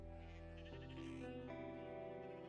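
Sheep bleating in the video game Broken Roads, a sustained, wavering bleat with strong harmonic layers that shifts pitch midway, loud and alone with no talk.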